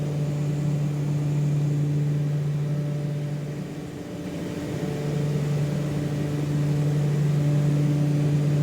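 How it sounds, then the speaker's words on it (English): Beechcraft Duke twin piston engines droning steadily in a flight simulator cabin, a loud constant low hum with a strong tonal buzz that dips briefly in the middle before returning to full level. "I feel like the engine sounds are kind of loud."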